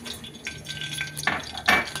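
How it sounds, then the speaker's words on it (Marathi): Mustard seeds crackle in hot oil in a kadhai while tempering for khaman dhokla, with quick popping and sizzling bursts over a steady low kitchen hiss. "मोहरी तडतडली."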